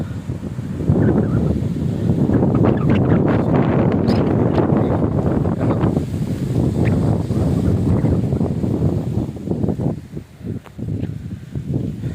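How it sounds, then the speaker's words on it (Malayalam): Strong wind roars steadily against the microphone, loud gusty buffeting that eases briefly near the end. "ഇവിടുത്തെ കാറ്റ് ഇത്തിരി കടുപ്പമാണ്"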